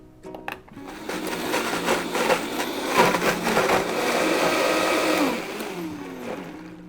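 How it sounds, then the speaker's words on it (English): A blender whirs as it purees roasted apples, peels and cores with brown sugar and cider, a loud grinding motor that starts after a few clicks, runs steadily for about five seconds, then winds down. "I'm gonna pop it into our blender."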